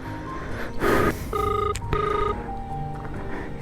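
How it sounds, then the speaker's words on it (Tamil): Ringback tone from a phone call sounds as a pair of steady electronic tone bursts over a noisy room, close and moderately loud. "இப்போ சரணுக்கு ஃபோன் அடிப்போம்"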